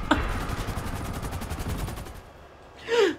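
Combat MG machine gun fire in the video game GTA 5, a rapid, evenly spaced burst of automatic shots lasting about two seconds, followed by a short pause and a brief louder burst of noise at the end.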